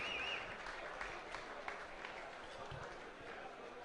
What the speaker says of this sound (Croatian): Veliki aplauz za Australce